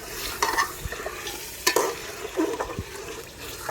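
Chicken for chicken pulao fries in a pot with a close, crackling sizzle. Uneven stirring scrapes and spatters come through in bursts, with no one speaking.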